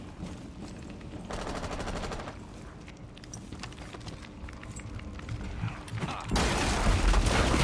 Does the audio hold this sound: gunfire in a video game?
yes